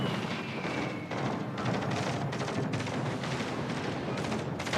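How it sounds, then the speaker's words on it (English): Bombs dropped from aircraft explode on ships in World of Warships: Legends, a dense continuous barrage of overlapping booming blasts and rattling gunfire, steady and fairly loud throughout. "Bombs away."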